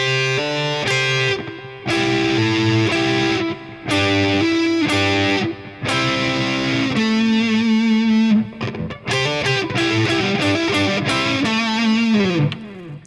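Slow electric rock guitar lick with heavy distortion, a string of sustained bent notes with vibrato and a slide out at the end, played alone with brief gaps between phrases.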